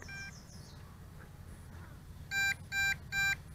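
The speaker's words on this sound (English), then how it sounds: "Okay, now it is beeping." An MJX Bugs 2 brushless GPS quadcopter sounds its low-battery warning as three quick, bright electronic beeps in a row near the end, after faint chirps over quiet background noise.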